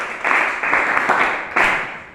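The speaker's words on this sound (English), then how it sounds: "Give me a round of applause." A chemistry class gives a round of applause in the classroom, a loud, close burst of clapping in a few rhythmic surges, rising and fading over about two seconds.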